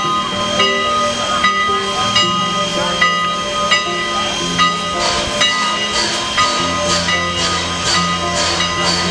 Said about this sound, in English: number 90 wasn't the only steam locomotive caught in this video, but also Strasburg's number 89.